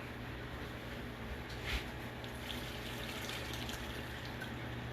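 Liquid is poured over braised oxtails in a pan, a faint, steady trickling wash with a small splash partway through, low in level against background hiss.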